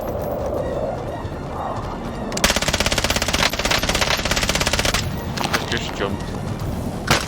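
Machine gun fire from an LMG in Call of Duty: Warzone, a rapid loud burst of shots for several seconds followed by scattered shorter bursts, with players talking over the action.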